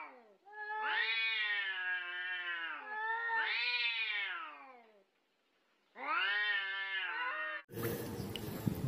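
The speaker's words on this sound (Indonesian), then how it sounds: "Kucing." A cat meowing close by in three long, drawn-out calls separated by short pauses, loud and clear, followed by a burst of other noise at the end.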